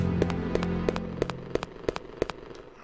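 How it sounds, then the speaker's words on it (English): Acid rounds fire in Resident Evil Code Veronica X as a string of evenly spaced, sharp in-game gunshots, about ten in quick succession over a steady background hum. "let's see what you're gonna do now when I hit you with the acid rounds."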